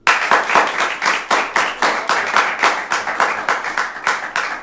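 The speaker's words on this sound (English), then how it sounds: "So clap for the one you'd like to see." A live audience at an improv comedy show claps to vote, with brisk, loud applause swelling and pulsing in rapid bursts without any voices over it.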